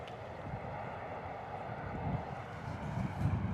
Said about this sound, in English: EasyJet 320 in the Eurocar livery coming at us.